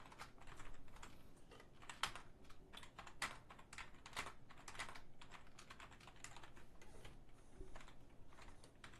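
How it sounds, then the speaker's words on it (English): Steady typing on a computer keyboard, a quiet, close run of irregular key clicks with occasional sharper taps, heard alone without any talk. "You can type in whatever."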